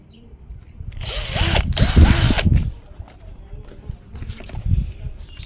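Cordless drill, a budget model used on masonry, wood and steel, whirring in two loud bursts that rise and fall in pitch, followed by quieter handling sounds and a faint later spin-up.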